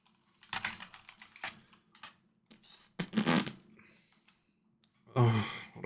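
A password is typed on a computer keyboard in several short, close bursts of rapid key clicks separated by quiet pauses.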